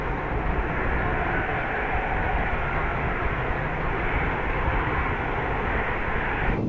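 An Airbus A380 jet on approach to landing at San Francisco produces a continuous, loud broadband engine roar and rush of air that holds steady for several seconds before easing slightly at the end.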